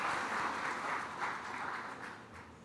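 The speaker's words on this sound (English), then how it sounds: "please join me in giving them all another big round of applause" A big round of applause from the audience at a business event for small enterprises and startups, a dense steady wash of many hands clapping at moderate distance, with no talk.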